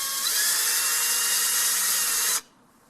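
A cordless electric screwdriver backs out screws on a leaking sprinkler fill valve, its motor whining loud and steady for over two seconds, rising slightly in pitch, then cutting off abruptly into near silence.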